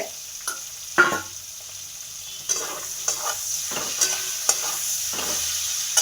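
Steady hiss of onions frying in oil, broken by occasional scrapes and stirs of a utensil in the pan, close and with no talking.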